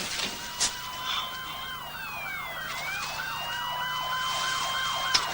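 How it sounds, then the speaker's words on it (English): Emergency vehicle sirens wail in a fast, repeating rising-and-falling pattern, with a second siren tone sliding over it, steady and moderately loud throughout; no talking. "what about those sirens? What sirens? The ones fast approaching?"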